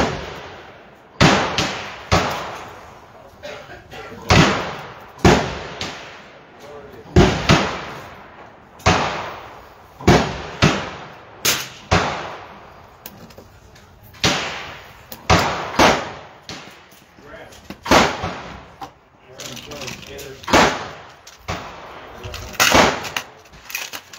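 Rapid, sharp gunshots come from a Ruger Precision Rimfire rifle firing CCI standard velocity subsonic ammunition. The cracks are loud, irregular and close, with some faint background voices between them.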